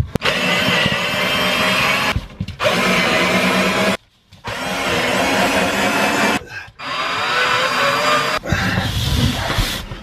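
Power drill backing screws out of a bunk bed inside a Grand Design Imagine XLS 21BHE RV, loud sustained whirring bursts of about two seconds each, separated by short pauses, up close with no talk.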